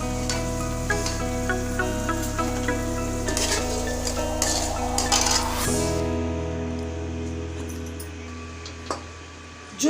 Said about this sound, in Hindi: देखिए हमने अपने आलूओं को अच्छे से फ्राई कर लिया। अब इनको कढ़ाई से बाहर निकालते हैं।